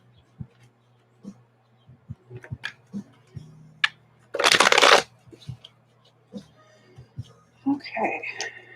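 Stiff new deck of playing cards being shuffled, scattered ticks and taps, then one loud riffling burst in the middle, followed by more light clicks and a voice talking at the end.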